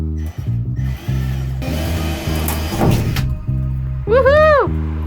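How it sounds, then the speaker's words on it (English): A power drill bores a hole in a van roof, whirring in short bursts, then running steadily, close by, with voices chattering over it and a shout near the end. "You ready to drill a hole in the roof?"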